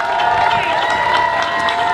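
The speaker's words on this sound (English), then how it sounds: "Let's give them a round of applause." Crowd cheers and applauds for first graders marching in a parade at a George Washington birthday celebration in Virginia, a steady, dense outdoor roar of clapping and voices with a tonal whine running underneath throughout.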